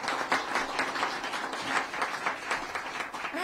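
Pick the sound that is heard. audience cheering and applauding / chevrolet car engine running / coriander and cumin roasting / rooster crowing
audience cheering and applauding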